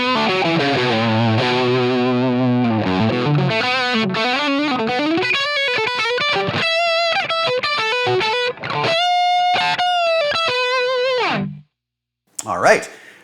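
Electric guitar through Line 6 Helix dual Plexi amp models plays a distorted, somewhat thin-toned run of chords and fast single notes, loud and up front, stopping abruptly near the end before a final short burst.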